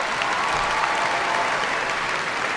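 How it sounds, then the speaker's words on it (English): A crowd at the SUNY Oswego 2025 School of Business commencement gives a warm round of applause, loud, dense and sustained across the whole stretch with a faint murmur beneath. "Let's give Rachel and Jillian a warm round of applause again."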